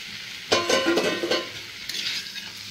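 A spice mixture sautéed in a pan with egg, sizzling in oil while a spoon stirs and scrapes in bursts, close and moderately loud, with no talking.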